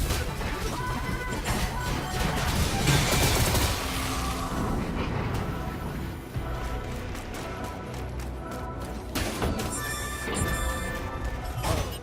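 Blocks in Astral Chain smash apart under Axe Legion strikes, a busy run of loud crashing impacts and debris clatter layered over game music and effects.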